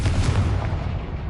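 A fiery Confringo spell blast in Hogwarts Legacy, a dense low rumbling boom that swells at once and then fades over a second or so, with nothing else heard.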